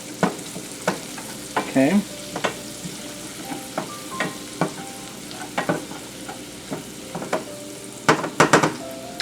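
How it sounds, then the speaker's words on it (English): Shallots sizzle in a pan over medium-low heat as they soften, a steady soft frying hiss broken by repeated spoon stirs and clinks against the pan, with a brief word spoken. "And we're just going to render the shallot down until it's almost translucent."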